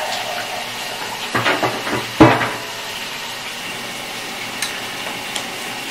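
Shower water runs at home as a steady, even hiss, broken by a few brief knocks and clunks partway through, with no one talking.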